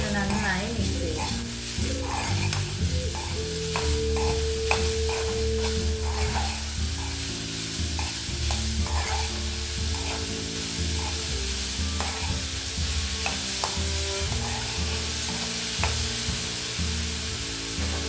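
Beetroot thoran being stirred in a frying pan, with continuous close sizzling and repeated scraping of a spoon against the pan, steady and loud throughout, with music playing underneath.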